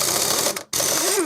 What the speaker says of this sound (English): I'm going to spin him off the rest of the way with the air gun.